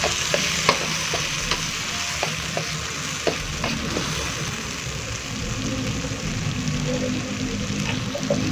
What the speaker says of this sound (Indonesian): Kemudian kita masukkan bumbu yang sudah kita blender.